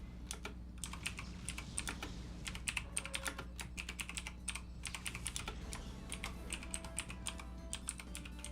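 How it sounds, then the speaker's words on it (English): Fast, clattering keystrokes on a clacky computer keyboard during a Pokemon Colosseum session, irregular bursts of sharp clicks close up over a steady low background hum. "Gotta love my clacky keyboard now."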